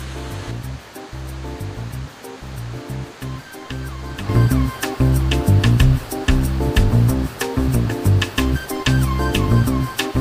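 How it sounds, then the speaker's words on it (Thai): Shirahige Falls, a small waterfall in Hokkaido, pours with a loud, continuous roar of rushing water heard close up, swelling louder partway through, with no talk over it. "น้ำตกชิลาฮิเกะนะครับเป็นน้ำตกเล็กๆนะครับ"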